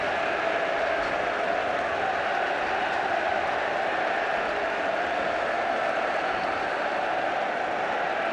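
A football crowd applauding as an injured player is stretchered off at an FA Trophy match, a steady, distant wash of clapping and crowd noise held at an even level throughout.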